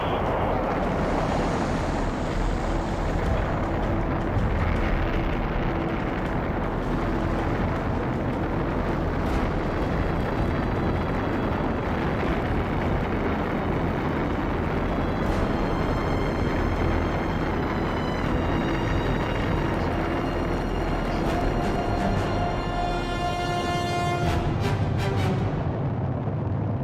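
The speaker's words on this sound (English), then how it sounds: "T-minus 15 seconds. Guidance is internal. 12, 11, 10, 9. Ignition sequence start." The Apollo 11 Saturn V rocket igniting and lifting off on July 16, 1969, a dense, continuous roaring rumble that stays loud and unbroken throughout, with a faint ringing overtone.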